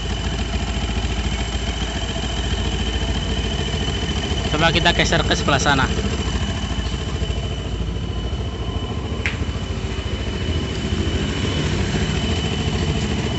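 Yamaha Jupiter MX motorcycle engine idling with a steady, even hum and an odd clattering noise, while a person speaks nearby; a short burst of mechanical rattling stands out in the middle.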